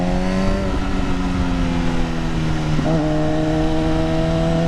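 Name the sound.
MV Agusta F4R motorcycle stock exhaust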